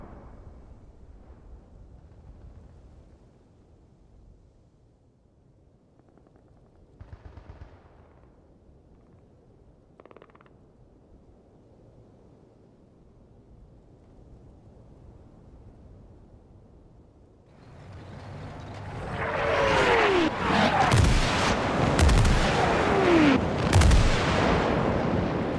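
Artillery and gunfire in the wargame Armored Brigade II: a low rumble underneath, faint scattered reports, then a loud dense barrage of booming explosions and shots builds up in the final seconds.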